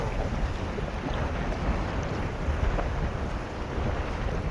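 Steady wind roars against the microphone with a broad, continuous wash of sea and waves around a fishing boat at sea, loud and unbroken throughout, with no one talking.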